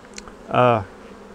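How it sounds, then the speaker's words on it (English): Honeybees from a swarm fanning at the top of a hive box, a brief buzzing drone that swells for about a quarter second and fades, heard up close with no talking. "They're fanning on the top, all three locations."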